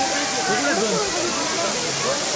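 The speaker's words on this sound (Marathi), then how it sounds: "बघा मस्त असा धबधबा." The waterfall at Malshej Ghat gives a steady, loud rushing roar, with the babble of a large crowd of people mixed in underneath.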